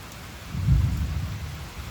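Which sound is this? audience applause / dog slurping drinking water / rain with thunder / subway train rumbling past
rain with thunder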